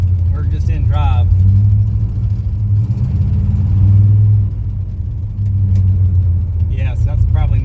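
A Lincoln car in drive, its engine giving a steady, loud low rumble that swells and eases slightly throughout, with short bursts of people talking near the start and end.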